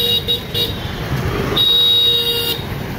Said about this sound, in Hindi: भाई इतना हॉर्न मारे